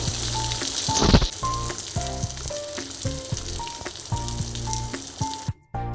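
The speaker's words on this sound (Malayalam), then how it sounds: "ഇനി നമുക്ക് മീൻ ഓരോന്നായി ഇതിലേക്ക് ഇട്ട് കൊടുക്കാം" Pieces of pomfret fish drop one by one into a sizzling fish curry seasoned with Malabar tamarind. A loud, steady frying hiss is broken by a sharp surge early on, with music playing underneath until it cuts off abruptly.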